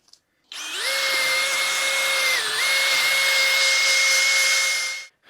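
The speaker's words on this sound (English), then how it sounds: "I'm just going to use a wire wheel to clean it up a bit." A wire wheel spins up on a power tool to clean a brake caliper part from a barn-find Citroën XM, giving one steady, loud, high-pitched whine of about four and a half seconds that briefly dips under load before winding down.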